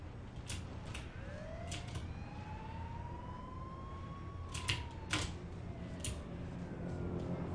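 A faint police car siren in the video game H1Z1 wails, rising and falling in pitch, over a low hum, with sharp clicking taps scattered throughout.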